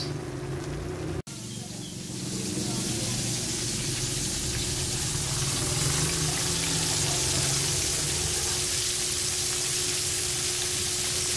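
Food fries in a pan over a charcoal fire, a continuous hissing sizzle after a brief click near the start, steady and moderately loud.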